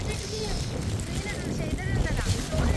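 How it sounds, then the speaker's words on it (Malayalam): Strong wind blowing across an open hilltop, rumbling and buffeting the microphone in a continuous gusty roar, with voices talking faintly beneath it. "അങ്ങനെ ഇങ്ങോട്ടേക്ക് കാറ്റ്"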